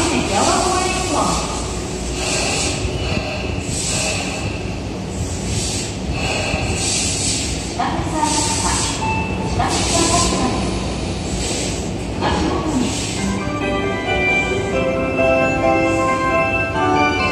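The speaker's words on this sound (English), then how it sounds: "The local train, bound for Motobachi Chunkaka, is arriving at track 1." A Tobu 9000 series train on the Tokyo Metro Fukutoshin subway line pulls into Chikatetsu-akatsuka station with a rising electric motor whine and rolling wheel rumble, while a platform announcement voice plays over it.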